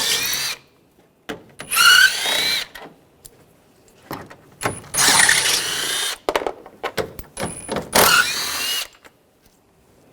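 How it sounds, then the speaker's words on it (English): Power drill with a 10mm socket backing out the front bumper cover bolts on a 2013-2016 Dodge Dart, three or four short, close, whirring bursts separated by pauses and faint handling noises. "I'm going to use a 10mm socket, take these bolts out."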